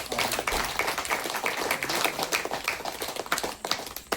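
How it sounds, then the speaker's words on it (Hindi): Church congregation clapping together during a Hindi-language worship service, a dense run of overlapping hand claps that stays loud and steady throughout, with no talk over it. "हालेलुया, ताली बजा।"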